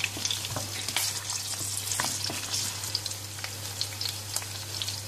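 Galangal pieces, kaffir lime leaves and lemongrass fry in a pan for a chicken rendang, giving a steady crackling sizzle with light stirring clicks, close and moderately loud over a low constant hum, with no voices.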